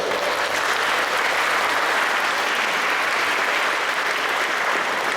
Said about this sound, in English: give an applause.